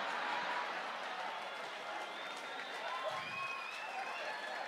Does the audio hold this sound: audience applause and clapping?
yes